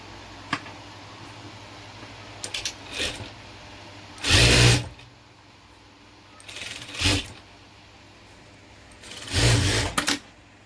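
A sewing machine stitches a blouse joint in short mechanical bursts of whirring needle motion, several separate runs of a second or less broken by quiet pauses, close and fairly loud with no talk.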